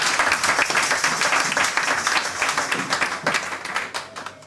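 Lively applause from a church congregation in a French-language service, many hands clapping in a dense, loud, slightly rhythmic burst close by, with no talking over it.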